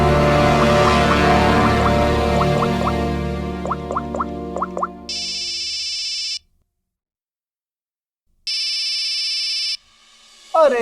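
A phone rings in a tense crime-drama scene, first as a fading musical tone, then two long, loud, buzzing electronic rings separated by a silent pause, with no talking over it.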